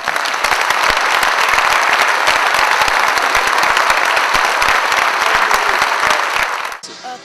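Warm, sustained applause from a cinema audience in Zrenjanin after a film premiere as cast members take a bow, dense steady clapping for about seven seconds before it abruptly cuts off.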